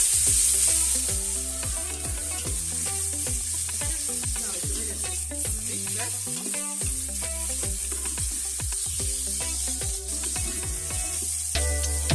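Beef and sausages fry in a Lidl multicooker with a loud, continuous sizzle layered with rapid crackling pops, steady throughout the whole stretch.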